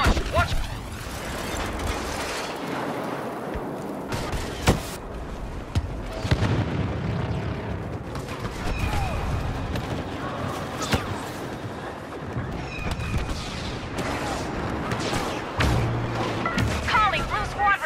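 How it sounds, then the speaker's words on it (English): Missile launches and explosions in a Star Wars Battlefront battle, with steady booming blasts, rumbling and scattered impacts layered throughout a dense, loud combat din. "Enemy missile launch! Watch!"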